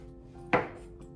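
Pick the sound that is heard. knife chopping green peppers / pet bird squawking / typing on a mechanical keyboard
knife chopping green peppers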